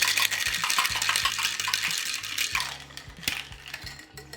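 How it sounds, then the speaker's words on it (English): Ice rattles hard inside a cocktail shaker while a low-calorie tequila drink is mixed, a rapid rhythmic clatter of cubes against metal that runs throughout and eases slightly toward the end. "Add ice to your shaker and shake for 10 seconds."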